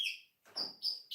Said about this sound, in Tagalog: Pati mga ibon nagsalita, no?